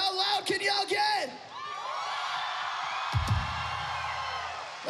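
Large live concert crowd cheering, whooping and screaming loudly and continuously, with shouts over a dense roar, briefly joined by a low rumble near the end; a voice talks at the start.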